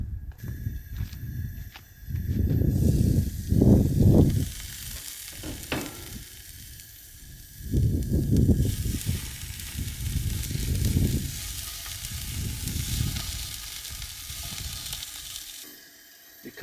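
Sausages sizzle under a lid in a covered pan at a desert campsite, a steady frying hiss that swells in louder bursts and fades between them, with no talking.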